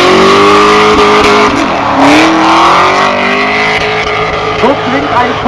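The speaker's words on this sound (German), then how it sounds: "So klingt ein Corvette-Motor im Porsche." A Porsche drift car fitted with a Corvette engine revs loudly at a Nürburgring drift show during the 24-hour race weekend, rising and falling in sustained pitch sweeps with faint tire noise and some voices mixed in.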